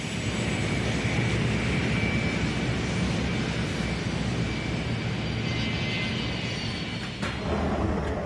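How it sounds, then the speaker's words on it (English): An A-4B Skyhawk fighter-bomber jet flies with a loud, steady engine roar that holds almost unchanged throughout, with a brief dip near the end. "The Argentinians are flying A-4B Skyhawk fighter bombers."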